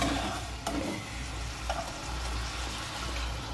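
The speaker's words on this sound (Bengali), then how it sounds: "মানে এটা ভাজা হচ্ছে।" Garlic, cumin, coriander and mustard paste sizzle in a pan in a home kitchen, giving a soft, steady frying hiss with a few light stirring clicks and no voices.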